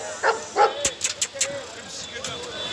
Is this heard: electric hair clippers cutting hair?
no